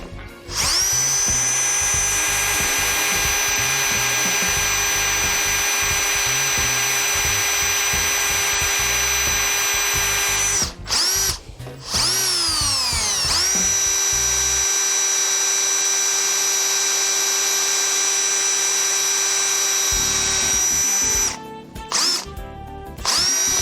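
A power drill spins at roughly 2,000 RPM on its low setting while working on a 200SX brake job, a steady loud whine running nearly the whole time with a short stop and restart near the middle and brief breaks toward the end.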